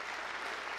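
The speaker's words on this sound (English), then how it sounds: "Can we give God a round of applause for that?" A congregation claps during a baptism celebration in a church worship service, a brief, even wash of applause heard at moderate level with no clear voices.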